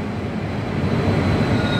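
Metro train running with a steady, loud broadband rumble and rail noise throughout, close by, with no speech.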